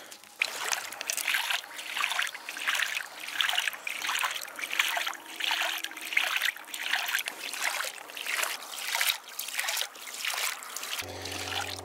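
A homemade motion duck decoy set in the water makes a soft, continuous trickle with rhythmic small splashes and dribbles. The sound is faint and close, with no talking, and it ends in a brief low hum.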